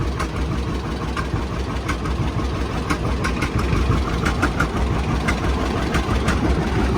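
A John Deere 60 tractor engine idles close by, giving a loud, steady low chug with an even rhythm and faint mechanical ticking throughout.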